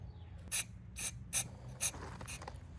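Cleaner sprayed into a go kart carburetor in short, sharp hissing bursts, five in a row about half a second apart, close and crisp over a low background hum.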